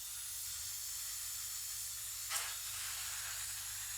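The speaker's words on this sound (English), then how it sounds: "So the pink noise doesn't have to be too loud and you don't have to scare everybody of suddenly." Pink noise test signal plays from headphones set in front of a measurement microphone, heard as a soft, continuous broadband hiss at low level, steady throughout apart from one brief bump near the middle.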